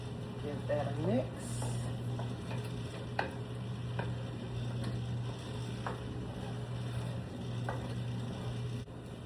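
A spoon stirs curry powder and paprika into a dish in a pan, giving soft irregular scrapes and taps over a low sizzle, faint and close, while someone talks.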